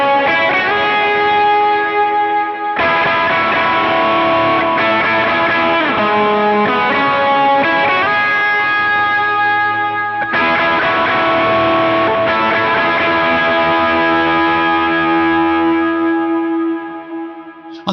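A heavily distorted electric guitar plays a sustained lead line with chorus and echo, ringing notes held and layered, loud and alone.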